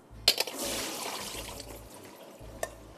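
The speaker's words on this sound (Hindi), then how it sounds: "पानी इसका निकाल देते हैं" Water pours and splashes as soaked chopped zucchini is drained in a kitchen, a few sharp clatters and then a steady trickling rush, close by with no talk.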